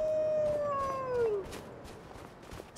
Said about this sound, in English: This place is infested with wolves.